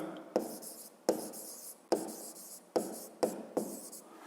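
A pen writes down a tape-measure reading in a Grade 5 maths exercise, giving six short scratchy strokes at a steady pace, close and quiet, with no talking.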